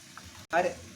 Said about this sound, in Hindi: अब टोमेटो केचप डालेंगे।